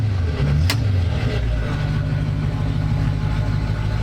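The engine of a 1931 Ford Roadster hot-rod pickup idles with a steady low rumble, close and continuous, with a short sharp tick near the start.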